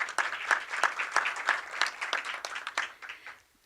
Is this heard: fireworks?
no